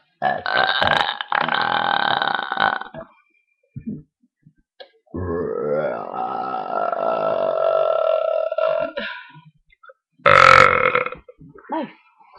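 Several loud, long burps on demand come one after another from people nearby, some drawn out and croaky, with short pauses between them.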